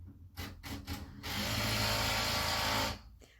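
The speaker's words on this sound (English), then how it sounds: "They've been drilling right outside my window." A steady, grinding drill drone from work outside a window runs for about two seconds after a few short bursts, loud and close, then cuts off.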